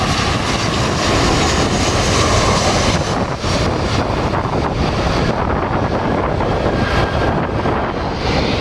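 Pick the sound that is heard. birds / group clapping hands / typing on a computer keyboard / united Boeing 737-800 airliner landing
united Boeing 737-800 airliner landing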